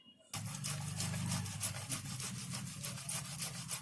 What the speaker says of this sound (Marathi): ही बटाटी आहे ना किसणीवर किसून घेते.